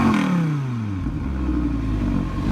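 A 2017 Audi R8 V10 Plus supercar engine fires up with a loud starter whir that settles into a deep, rumbling idle with a slight revving swell, heard close and alone.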